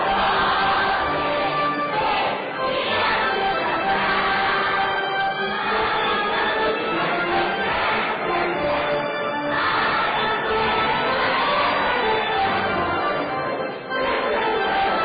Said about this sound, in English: Let's listen in as this big crowd sings Take Me Out to the Ball Game